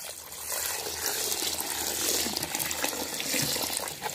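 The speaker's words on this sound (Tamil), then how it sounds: "இப்போ நல்லா கழுவி ஊற வைக்க போகிறேன்." Water splashes and runs while ration rice and fenugreek seeds are washed in a vessel, a close, steady sloshing and trickling that continues throughout.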